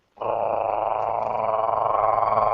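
A human voice imitates a growling beast for a tabletop Dungeons & Dragons scene, a sustained, rough, throaty snarl that starts abruptly and holds loud and close for over two seconds.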